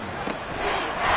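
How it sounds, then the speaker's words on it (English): Stadium crowd at Arrowhead roaring in the Madden 24 football video game, a loud, steady wash of cheering that swells slightly toward the end, with no clear talk over it. "The Arrowhead crowd in full roar."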